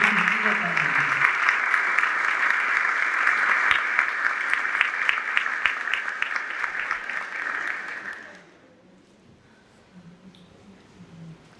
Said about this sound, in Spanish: Les pedimos un fuerte aplauso para recibir a este distinguido panel.